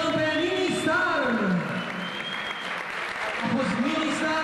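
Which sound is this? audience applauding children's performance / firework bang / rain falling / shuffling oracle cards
audience applauding children's performance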